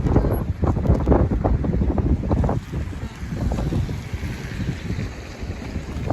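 Cold wind buffeting the microphone outdoors, a loud, continuous rumbling roar with gusty swells throughout.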